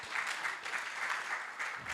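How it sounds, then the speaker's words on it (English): An audience claps together at a summit session, a steady patter of many hands that rises and falls in small swells over a couple of seconds, moderately distant and without talk. "At least you should have clapped well for me."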